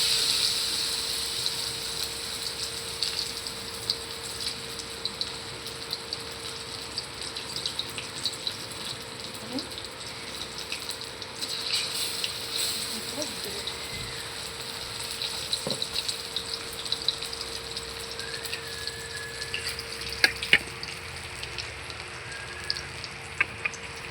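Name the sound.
ash gourd slices in batter frying in oil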